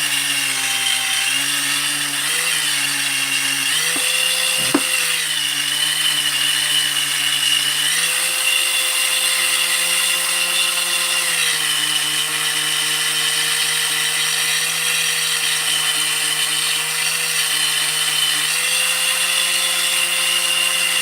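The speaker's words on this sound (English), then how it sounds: "Just a steel wire wheel. I just want to clean up the surfaces here a little bit." A steel wire wheel on a power tool scrubs the sealing surfaces of a 372 engine crankcase, giving a steady high whine and hiss that runs without a break, its pitch shifting slightly as the load changes.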